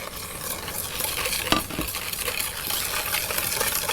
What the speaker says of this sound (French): on va verser un petit peu de ce liquide chaud dans le cul de poule